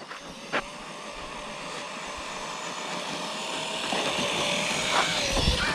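A Traxxas RC monster truck's electric motor whines steadily outdoors, rising in pitch as the truck pops a wheelie, with a faint thump early on and no talk.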